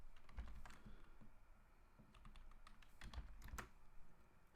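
Fingers type on a computer keyboard in quick, irregular bursts of soft clicking keystrokes, close and fairly quiet, with short pauses between runs.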